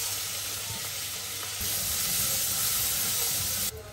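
Onion fries in melted butter over medium heat, a loud, dense, continuous sizzle and hiss that swells slightly partway through and cuts off abruptly near the end.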